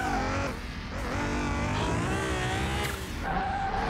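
A lowered Nissan GT-R with 25-inch rims drives hard in Car Mechanic Simulator, engine revving loudly with shifting pitch and tires squealing continuously throughout.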